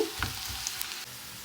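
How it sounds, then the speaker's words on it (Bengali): Onion and garlic frying in a pan give off a short, steady sizzle, close and fairly quiet, with no one talking. "পেঁয়াজ রসুন এই যে ভেজে নিচ্ছি।"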